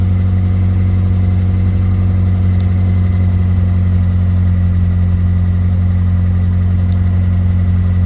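A Nissan S14 with an SR20DET engine idles steadily while warming up, giving a constant low, even rumble with no revving, close and loud throughout.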